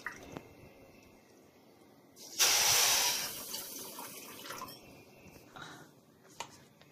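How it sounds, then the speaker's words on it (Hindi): Water poured into a pan with sugar to make syrup for gulab jamun, heard as a brief splashing gush lasting under a second, then faint dripping and clinks in a quiet kitchen. "और 250 ग्राम हम पानी डालेंगे।"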